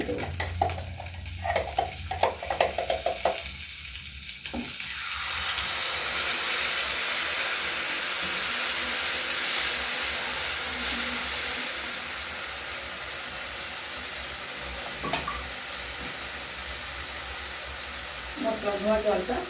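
Pabda fish frying in oil with a burnt spice paste: a loud, steady sizzle swells through the middle and eases off, with a person speaking over the quieter start and end.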